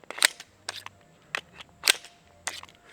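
A metallic clack from the Tristar APOC pistol as its slide closes, set among several sharp handling clicks from the gun and its magazine, heard close and clear with no talking.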